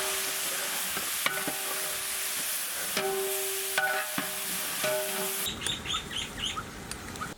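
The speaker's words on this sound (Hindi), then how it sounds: "ऑयल गर्म होते ही हम लोग इसमें ऑनियन पेस्ट ऐड करेंगे।" Onion paste spitting and sizzling in hot oil in a handi for Mughlai chicken, a steady close crackle with stirring knocks and scrapes throughout and brighter bubbling near the end, no voices.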